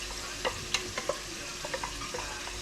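Hotdogs fry in a pan with a steady background sizzle, broken by close scraping and clinking as they are stirred and turned.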